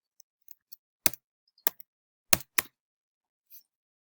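Scattered keystrokes on a computer keyboard, a handful of sharp, close clicks with irregular gaps, several faint taps among them, in an otherwise quiet room.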